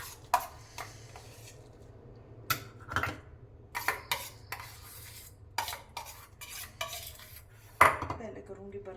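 Dishes and utensils clink and clatter at a kitchen sink, with scattered sharp knocks of metal and ceramic over a low steady hum, moderately close, no voices.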